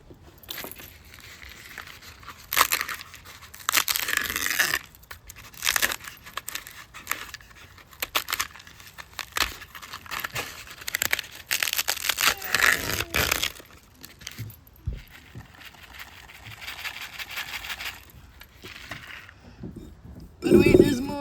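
Skin is peeled off a dried luffa by hand, producing irregular bursts of close, dry crackling and crunching that stop and start between quieter pauses.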